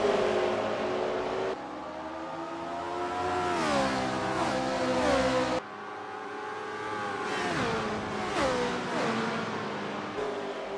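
A 1970 V8 race car in a racing video game at the Phoenix oval drones steadily at high revs, pitch sweeping down and back up through two gear or corner cycles, loud and alone with no talk.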